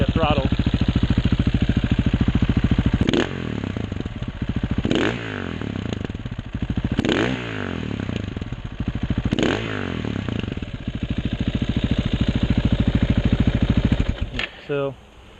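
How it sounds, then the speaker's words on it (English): A 2009 KTM 690 SMC single-cylinder supermoto idles with a loud, thumping putter, then revs sharply four times in a row before settling, followed by a final quick blip. "Let me give it some revs so you can hear what it sounds like at throttle"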